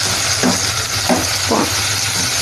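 Drumstick pieces sizzling with tomatoes in a hot pan, a steady loud frying hiss with a few brief stirring scrapes.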